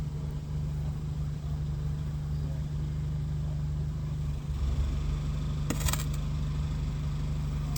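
A car drives past somewhere in the background, a steady low engine rumble with a broadband swell midway and a brief rattle near the end, continuous and fairly distant.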